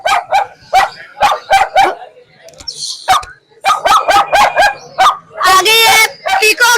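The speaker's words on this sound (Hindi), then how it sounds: "ये नीचे डॉगी है।" A dog at a bird market in Multan barks repeatedly in short, sharp bursts, close and loud, with people talking nearby between the barks.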